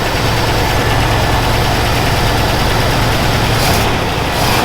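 An old Buick survivor car engine idles smoothly and steadily at close range, a constant low rumble with no revving and no voices.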